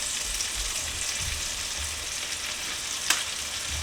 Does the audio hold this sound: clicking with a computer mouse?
no